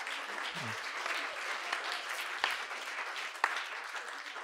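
An audience applauds steadily, a dense wash of clapping at moderate distance with a couple of sharper claps standing out.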